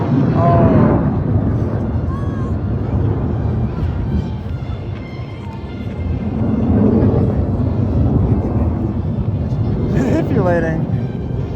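US Air Force Thunderbirds jets fly at the 2024 Columbus Air Show, a loud, sustained roar of jet noise that swells and fades, with spectators talking over it at times.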